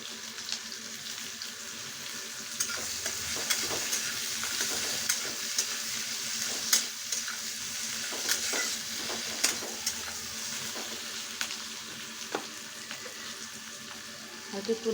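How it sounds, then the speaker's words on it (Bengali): Onion frying in a pan with a little salt, a steady close sizzle with stirring scrapes and occasional clinks that runs the whole time, with no talk over it. "হয়তো একটু নুন দিয়ে পেঁয়াজটা ভেজে নেব।"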